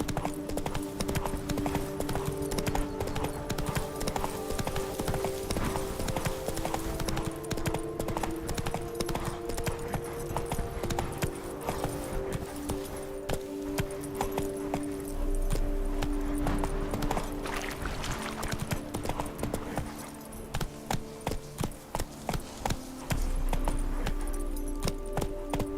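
A horse's hooves clatter at a gallop in The Witcher 3, a fast continuous clip-clop that stays loud and close over a game music bed for the whole stretch.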